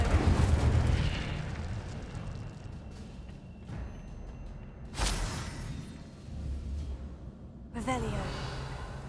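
Incendio fire spell in Hogwarts Legacy gameplay: a few whooshing, explosive bursts of flame erupt over a rumbling battle bed, with a voice talking during the fight.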